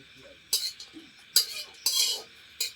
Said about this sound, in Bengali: কাজু বাদামকে আগে হালকা করে ভেজে নেব একটু কড়ার মধ্যে